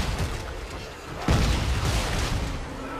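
A shotgun blast booms once in the sci-fi horror game Dead Space 3, a sudden loud thump that rises out of continuous game noise and fades into a rumbling tail.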